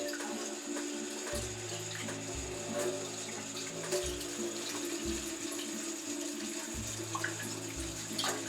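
Tap water runs over sprouting seeds being rinsed. The flow splashes steadily close by, with a few heavier gushes coming and going.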